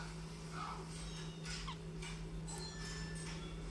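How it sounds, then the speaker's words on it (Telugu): Drumstick and tomato pieces are stirred in oil in a pan, a soft spoon scraping and clinking against metal in a few faint, irregular strokes over a low steady hum. "ములక్కాడ టమాటో అంతా ఆయిల్లో కలిసేలా కలుపుకొని మూత పెట్టేసుకోవాలి."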